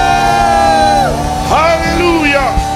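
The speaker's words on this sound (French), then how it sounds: "Est-ce que tu peux pousser des cris de joie?" Church congregation at an evening service in a French-speaking gathering erupts in loud cheering, whoops and joyful shouts, a dense crowd roar with rising and falling voices throughout.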